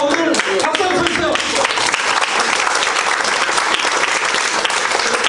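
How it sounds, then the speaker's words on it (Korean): Loud, dense audience applause fills a hall, steady clapping from a large crowd close by for several seconds. "오늘 박수 한번 쳐주세요."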